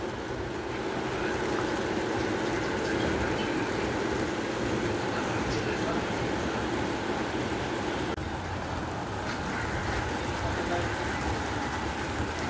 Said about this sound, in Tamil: மறுபடி மழை ஆரம்பிச்சிச்சு.